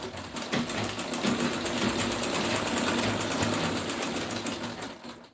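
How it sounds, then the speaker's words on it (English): A sewing machine stitching fabric for a dress, a fast, even mechanical rattle running close and continuously before slowing at the end. "I'm just going to continue sewing."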